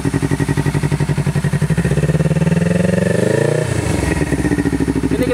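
A Honda CBR 250RR engine revs hard in launch control mode, a steady high buzzing rev held for several seconds, dipping briefly, then settling into a pulsing idle, loud and close with no talk.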